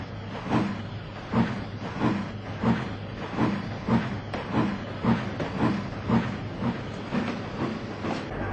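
A train gets underway with a steady, regular clickety-clack of wheels over rail joints, evenly spaced beats repeating over a constant low rumble and hiss, fairly close and with no voices.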